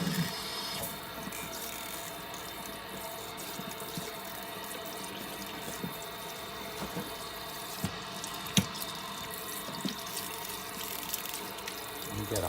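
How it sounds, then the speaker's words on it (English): Cold water runs steadily from a tap over a beef shoulder in a kitchen sink, a continuous close hiss and splash with small drips and clinks throughout, no talk. "you want to wash this in cold water"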